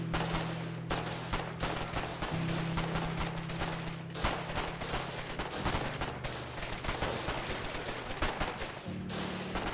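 Dense, continuous gunfire in the Foxhole war game, with rapid overlapping shots and bursts filling the whole stretch over a steady low mechanical drone, loud and close throughout.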